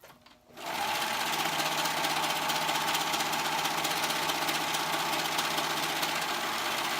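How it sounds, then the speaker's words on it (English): A sewing machine stitches sleeves onto a dress bodice, starting after a brief quiet moment and then running as a fast, even, continuous mechanical whir, close and steady. "I'm sewing, first thing I'm doing is sewing the sleeves on"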